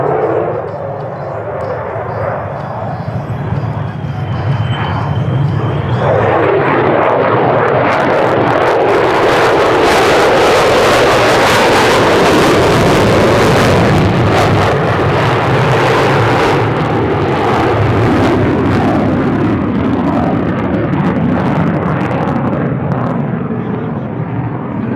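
A short takeoff vertical landing military jet at an airshow sends out a powerful, loud roar that builds sharply and then holds as a heavy sustained thrust rumble, close and overwhelming.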